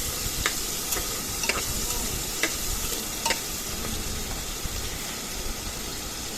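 Shrimp sizzling steadily in a hot pan with oil, a constant close hiss broken by light scraping clicks of stirring at regular intervals, no talking.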